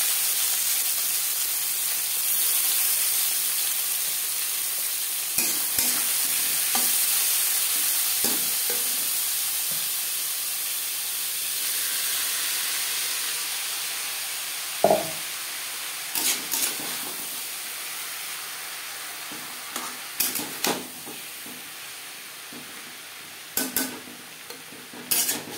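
Cumin seeds and dry red chillies frying in refined oil for a Bengali bottle gourd peel dish, a continuous hissing sizzle with scattered sharp spoon clinks and stirring scrapes, no voices.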